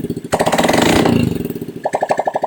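A Honda Scoopy FI scooter whose engine has a fault and stalls often puts out a close, loud, pulsing putter. It revs up sharply, falls back to a throbbing idle, then picks up again.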